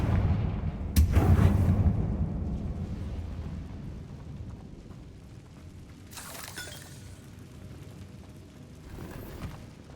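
Confringo blasting spell explosion in a wizard video game, a sharp crashing blast followed by rumbling debris, with two further fainter bursts later.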